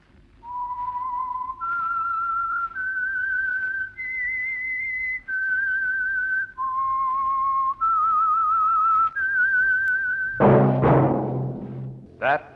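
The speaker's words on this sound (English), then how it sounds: "That whistle is your signal for the Signal Oil Program" A melodic whistled radio theme tune of sustained, gliding notes stepping up and down, clear and close, ending with a burst of broadband noise.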